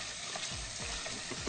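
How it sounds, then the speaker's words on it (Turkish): Chicken pieces sauté in a little olive oil in a pan, a steady close sizzle and crackle with a few soft stirring scrapes, no talking. "şöyle az bir şey yağımızla beraber gördüğünüz gibi şöyle güzelce şöyle bir tavuklarımızı kavuruyoruz"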